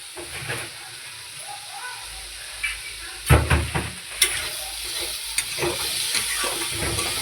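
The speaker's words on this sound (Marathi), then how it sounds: "चांगलं 3-4 मिनटं व्यवस्थित फ्राय करून झालेलं आहे" Pav bhaji vegetables frying in a pan, a steady hiss and sizzle with intermittent clinks and scrapes of stirring, fairly close and continuous.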